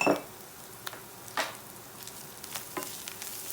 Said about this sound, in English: we'll just try to cook the masala a little bit